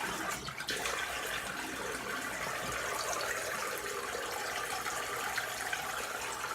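Tap water runs steadily into a bathroom sink while a face is rinsed after a double-edge razor shave, a continuous close splashing rush with no talk.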